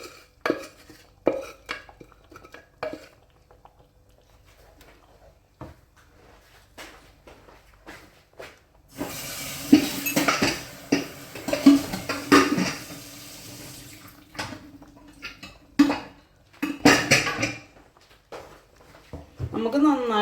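A spoon scrapes and clinks around a pot while caramel dal payasam is stirred, intermittent metallic knocks and wet swishing under a person talking.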